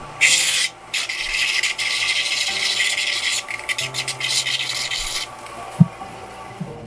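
Dry, rasping strokes of a file against a silver plate, in bursts of steady scraping with brief pauses and a couple of light knocks near the end.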